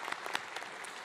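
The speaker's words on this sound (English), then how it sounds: "thank you, a round of applause for him as well." Short burst of applause at a leaders' dialogue forum on sustainable economic development, a scattering of hands clapping over about a second with no voices.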